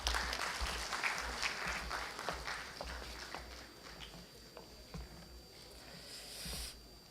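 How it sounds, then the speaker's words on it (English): Audience applause at the CHEMCON-2024 international chemical engineering conference, a steady wash of clapping that fades somewhat midway and swells again briefly near the end. "Please welcome him with a huge round of applause."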